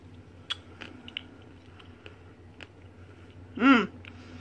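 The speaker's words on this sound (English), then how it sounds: "The chocolate is very crunchy." Quiet, scattered crunchy bites and chewing clicks close to the mic, followed by a louder, brief mouthy squelch near the end.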